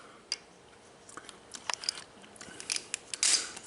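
Plastic zip ties are wrapped around transmission cooling lines on a 1931 Chevy rat rod and pulled tight, making a quick series of small ratcheting clicks and zipping ticks, close and fairly faint in a quiet shop.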